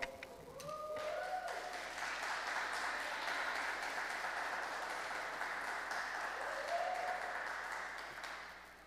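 Sustained audience applause fills a city council session chamber, a steady broadband clatter of many hands lasting several seconds, with faint talk near the start before it slowly tapers off.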